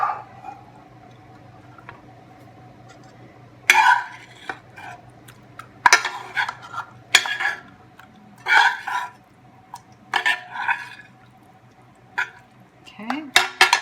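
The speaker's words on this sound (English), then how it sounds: "we're going to do another cup of meat sauce" Meat sauce spread over lasagna layers in a home kitchen for a light lasagna, heard as a series of scattered scrapes and clinks of utensil against dish in bursts over a quiet background.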